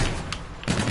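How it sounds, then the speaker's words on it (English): Gunfire from a sniper rifle in the online shooter Call of Duty: Infinite Warfare, with a sharp burst near the start and a heavier, sustained blast of shots filling the last part of the second. "I got Remy with a sniper"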